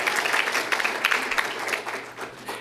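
A crowd claps and cheers at a campaign event for a Democratic attorney general candidate, with a steady, fairly loud wash of applause running throughout and no voices over it.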